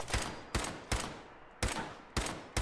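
Gunfire in Fallout 4, five loud close shots fired at an irregular pace about half a second apart, each with a short trailing decay.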